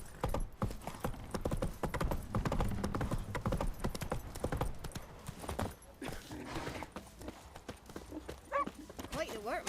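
Roach the horse gallops in The Witcher 3 with steady, close clip-clop hoofbeats, a brief whinny and snorts, while voices talk over the running.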